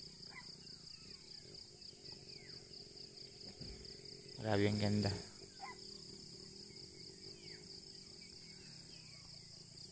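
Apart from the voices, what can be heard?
birds and insects calling at a hillside campsite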